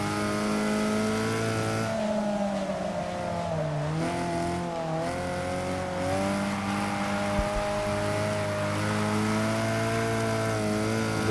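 Alfa Romeo GTA engine revving and shifting loudly throughout a Forza 6 multiplayer race, steady engine roar with rising and falling pitch as the car accelerates out of turns, with brief tire noise.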